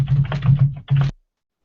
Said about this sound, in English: muted again because you're smashing on your keyboard